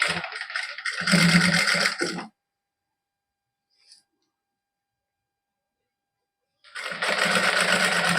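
Sewing machine stitching zari lace onto the hem of a suit, with bursts of loud mechanical running at the start and end separated by a long stretch of silence.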